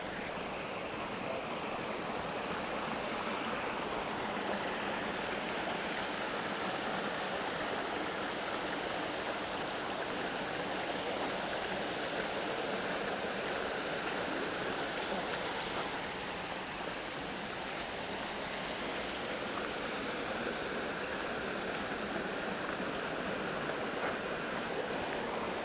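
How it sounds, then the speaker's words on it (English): A stream flows in the Morikami Museum and Japanese Garden in Florida, a steady, full rushing of water heard up close that stays constant and uninterrupted throughout. "Go up here and take a look at the stream up close."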